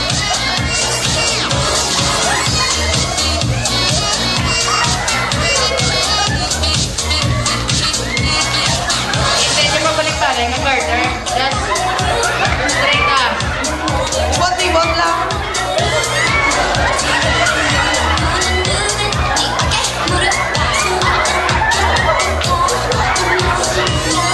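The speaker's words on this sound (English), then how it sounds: "please give an round of applause, please" Guests at Nicky and Joy's wedding reception applaud and cheer loudly as a dense, sustained crowd roar, with shouts and background chatter throughout.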